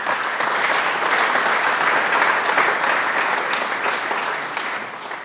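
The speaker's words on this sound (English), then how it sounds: "We can clap for him again." Audience at a golf learning center dedication applauding honoree Tom Sweetman, a steady wash of many hands clapping at once, full and close, fading slightly toward the end.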